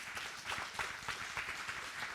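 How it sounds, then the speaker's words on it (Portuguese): Audience applause at a church talk, a steady wash of many hands clapping, fairly faint and distant, with no voices over it. "Um aplauso para eles."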